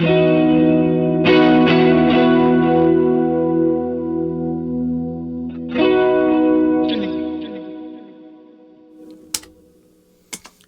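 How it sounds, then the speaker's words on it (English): Sustained electric guitar chords through delay and reverb effects ring out with shimmering echo and a long reverberant tail, a few strummed attacks decaying slowly into quiet. "put some delay and reverb on that"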